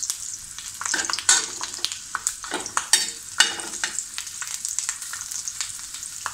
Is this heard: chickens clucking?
no